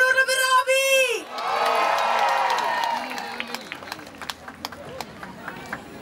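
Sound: concert crowd cheering and shouting

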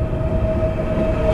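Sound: train arriving in Bukhara, Uzbekistan

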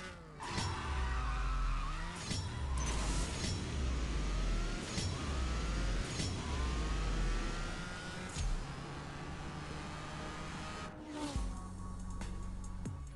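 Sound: Toyota GR Supra drag race run with NOS in CSR2 video game

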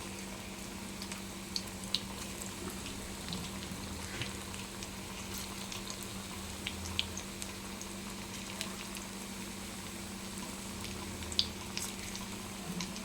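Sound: sweet corn fritters frying in oil

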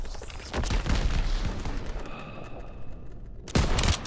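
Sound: gunfire in Call of Duty WWII video game

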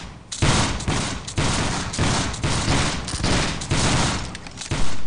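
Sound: company firing muskets by file in a video game

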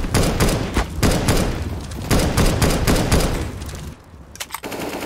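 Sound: grenade explosion in video game CS:GO

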